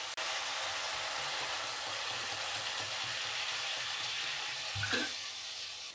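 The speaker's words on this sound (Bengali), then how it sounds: "এখন আমি এতে আন্দাজ মতো জল দেবো" Water pours steadily into a pot of Bengali ridge gourd curry with lentil fritters, a continuous broadband rush lasting several seconds, with a brief clunk near the end.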